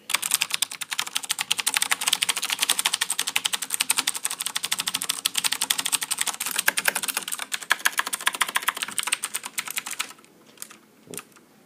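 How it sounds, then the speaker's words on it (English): Fast, continuous typing on a Razer BlackWidow Expert mechanical keyboard with clicky Razer blue switches, a dense close clatter of key clicks that stops near the end, leaving a few isolated taps. "it has a sort of clicky sound because it's got Razer Blue Cherry keys, which is a type of mechanical keyboard key"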